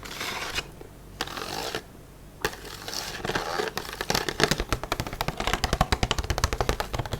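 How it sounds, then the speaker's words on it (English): A plastic egg carton is handled and tapped up close: soft crinkling and rustling at first, then a quickening run of sharp, light taps and clicks on the hollow plastic, with no talking. "I love the sounds of these plastic egg cartons as well."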